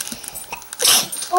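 A single short, sharp sneeze bursts out near the microphone amid quiet background sounds.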